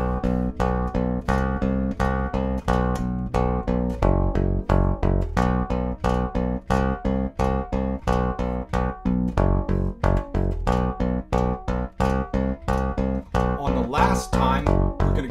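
A bass guitar plays the steady chorus riff of a song, evenly picked notes with index and middle fingers, loud and close, with no voices over it.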